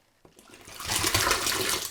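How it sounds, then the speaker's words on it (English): Tap water runs into a guinea pig water bottle to rinse it, a close, rushing splash that swells quickly and then holds steady. "So just kind of put some in, rinse it out. Just get some straight tap water"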